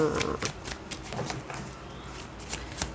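Tarot cards shuffled by hand: rapid, repeated papery riffles and snapping flicks at close range, loud and rhythmic, with a faint voice in the background.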